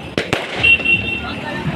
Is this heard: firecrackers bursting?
yes